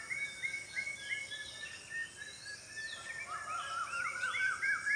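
Night birds give repeated whistle-like calls and chirps at a distance, rising and falling over a steady hiss of insects, with no talking.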